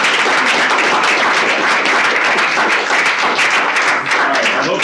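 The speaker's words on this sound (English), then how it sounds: "let's hear a big round of applause for the recording" Audience at an academic presentation on agricultural productivity in Southern Africa breaks into dense, loud, steady applause, many hands clapping together without a break throughout.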